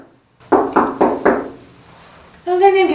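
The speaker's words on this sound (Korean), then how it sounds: "그를 만나기 위해 수차례 문을 두드려봤지만" Four firm knocks rap on the door of a house in a quiet village, close and sharp, evenly spaced, followed by a voice calling out.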